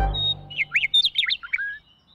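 A bird near a scarecrow in a children's show chirps in a quick run of bright, rising and falling notes, clear and close, after a brief low sound at the start.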